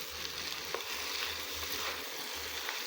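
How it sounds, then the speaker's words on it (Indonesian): Bok choy and mixed vegetables being stirred in a frying pan, giving a steady hiss of sizzling with soft scraping and stirring sounds, close and unbroken, with no talk. "Kita masukkan semua sayurannya ini. Setelah itu, jika sudah kita masukkan, kita aduk sampai dengan rata."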